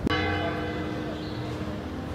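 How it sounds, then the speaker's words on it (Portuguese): A church bell strikes in the medieval streets of San Sebastian, one clear ringing hit followed by a long resonant decay, heard outdoors amid faint street ambience. "Praticamente a gente ouve sino o tempo inteiro."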